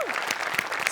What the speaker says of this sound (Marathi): तर त्यांच्यासाठी एकदा जोरदार टाळ्या.